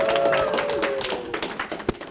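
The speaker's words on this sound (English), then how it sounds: "welcome to the stage with a thunderous round of applause, Richard Nongard." An audience applauds as a speaker takes the stage at a hypnosis talk, with moderate, fairly thin clapping over a faint tonal hum that tapers off near the end.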